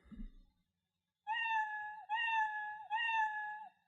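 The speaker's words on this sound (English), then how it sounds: "There we go, meowing away." A cat meow sound effect played three times in a row by a block-based programming project, each meow a clear, close, evenly spaced tonal call, following a brief soft bump and a moment of silence.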